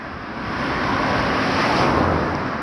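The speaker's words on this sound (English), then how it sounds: "you can hear the rolling of the buses coming from afar off, especially the diesel powered buses" A heavy diesel bus engine rumbles steadily on a road, a broad continuous roar that swells slightly as the bus draws nearer.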